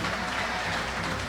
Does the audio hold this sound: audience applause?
yes